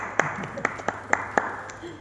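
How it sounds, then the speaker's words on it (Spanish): A handful of separate hand claps ring out to welcome a guest at a training session, spaced and fairly quiet, with a voice nearby. "Un aplauso."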